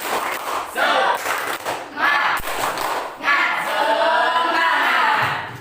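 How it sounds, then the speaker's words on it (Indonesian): Students in a classroom do a rhythmic group clapping chant, shouting together in bursts with thudding claps between them, loud and close throughout. "Ya, tepuk semangat"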